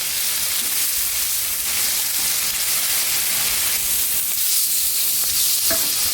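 Shrimp frying and caramelizing on a hot griddle, a loud, steady, close hiss of searing that holds throughout, with a faint metallic tap near the end.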